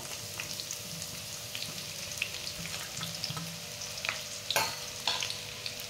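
Sliced onion with caraway and cinnamon sizzling in hot oil while being stirred, for a chicken biryani. A dense, steady crackle runs throughout, with scattered sharper pops and scraping stir sounds, close and alone.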